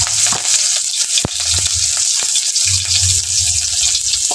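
Onions and garlic frying in hot oil, a steady loud sizzle with occasional stirring clatters and scrapes close by.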